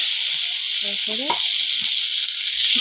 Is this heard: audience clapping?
no